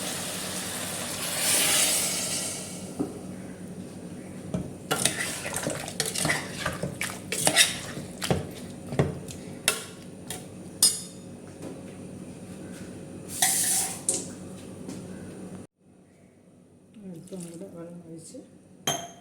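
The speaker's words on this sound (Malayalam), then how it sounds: "ഇനി വെള്ളം ഒഴിച്ച് കൊടുക്കാം" Water is poured into a pot in two short splashing bursts, between clinks and scrapes of metal utensils.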